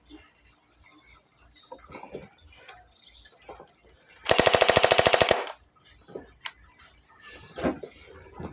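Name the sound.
pellet gun firing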